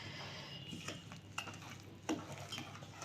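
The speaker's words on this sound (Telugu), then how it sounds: "ఒకసారి గరిటెతో మొత్తం కలుపుకుందామండి" A ladle stirs raw fenugreek seeds and spices through hot oil for a mango, carrot and beetroot pickle, giving scattered metallic scrapes and clinks against the pan at close range, with no talk.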